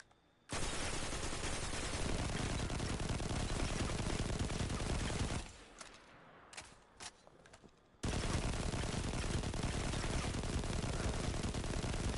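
Sustained automatic gunfire from a Destiny 2 weapon, a loud continuous stream of shots, a brief pause with a few isolated shots, then another long unbroken burst.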